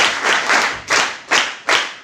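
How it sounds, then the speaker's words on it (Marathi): A group of students clapping loudly at a school gathering, a burst of applause followed by several distinct swells of claps, close and energetic. "एकदा जोरदार टाळ्या."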